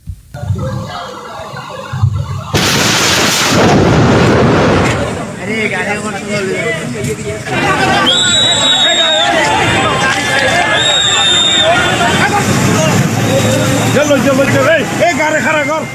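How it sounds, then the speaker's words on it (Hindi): A loud explosion is followed by continuous chaotic crowd noise, with many voices shouting and babbling over background rumble, at a fire scene. "ये धमाका और उसके बाद हुई अफरा तफरी की आवाज"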